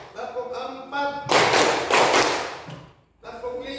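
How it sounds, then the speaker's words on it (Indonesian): A group claps in a counted pattern, several sharp, loud rounds of hands striking together, broken by a short pause and then resuming, with a voice speaking between the claps. "Oke, kita tepuk tangan dulu."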